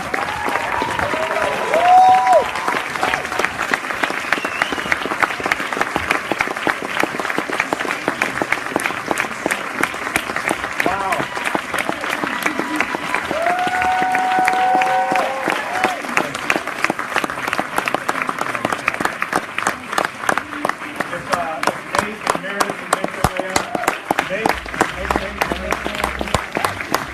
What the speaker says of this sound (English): give a big round of applause to Mr. Jamie Minton